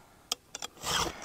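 A hand file sharpens a chainsaw chain held by hand. Three quick scraping rasps are followed by one longer, louder filing stroke, all close and brief.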